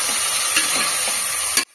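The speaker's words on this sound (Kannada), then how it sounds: "ಈರುಳ್ಳಿ ಎಲ್ಲ ಚೆನ್ನಾಗಿ ಫ್ರೈ ಆಗಬೇಕು" Onions and greens sizzle and fry steadily in a pan for a Turkey roast dish, a constant close hiss with light stirring clatter before the sound cuts off abruptly.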